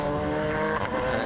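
Radical sports-prototype race cars at Snetterton brake hard into a corner together, engines snarling loudly with harmonic whine as they downshift, close and continuous over a brief moment.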